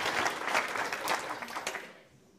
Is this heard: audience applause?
yes